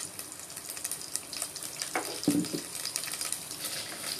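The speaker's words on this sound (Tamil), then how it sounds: "இந்த கடுகு நல்லா பொரிஞ்சதுக்கப்புறம்" Steady crackling sizzle of mustard seeds spluttering in hot oil, with a brief louder burst of popping in the middle.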